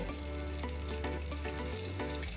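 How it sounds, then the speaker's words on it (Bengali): Chicken pieces frying lightly in butter in a pan for a stew, a steady close sizzle with a few soft clinks of stirring over a constant low hum. "এই মাংসটা হালকা ভেজে নেব"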